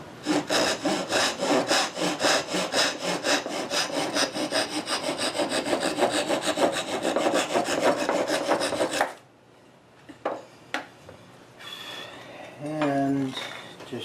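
A hand saw trims a wooden tenon on a Queen Anne chair stretcher with quick, even rasping strokes for about nine seconds. Then the sawing stops, followed by a few light knocks and brief speech.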